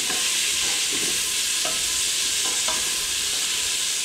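Food sizzling steadily in a hot pan as it is stirred, with a few scrapes of the spoon against the pan over a constant frying hiss.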